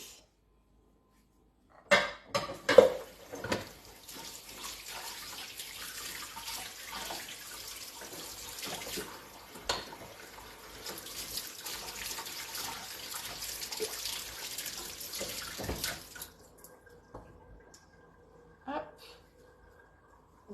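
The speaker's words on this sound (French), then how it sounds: "Je vais rapidement faire ma vaisselle." Tap water runs steadily into a sink with occasional clinks of dishes being rinsed, then the flow stops near the end.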